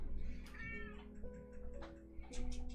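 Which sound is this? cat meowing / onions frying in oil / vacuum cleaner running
cat meowing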